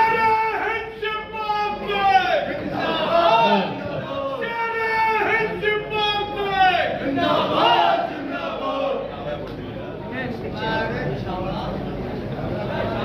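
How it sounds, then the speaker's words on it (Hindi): A large crowd at a political rally in India roars and cheers in repeated loud waves, a dense wall of voices with a voice rising over it. "जोरदार तालियों के साथ"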